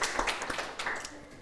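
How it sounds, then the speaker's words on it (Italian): Brief applause for a youth cycling school group on a television programme, a short patch of many hands clapping at moderate level. "l'applauso più grande è per voi."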